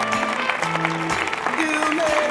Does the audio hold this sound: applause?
yes